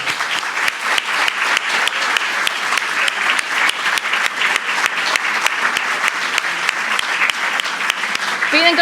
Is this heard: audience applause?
yes